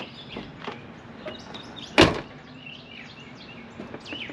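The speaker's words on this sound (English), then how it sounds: "the best close that this door has had since I've owned it" A 1989 Chevy truck door with a newly installed striker shuts once in a single sharp, solid slam, loud and close. Faint bird chirps and low background hum surround it.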